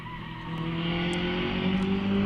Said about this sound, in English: Edmund Burgess leaves the start line in the Bugatti with a squeal of the tyres